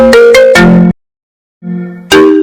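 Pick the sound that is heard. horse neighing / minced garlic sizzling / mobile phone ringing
mobile phone ringing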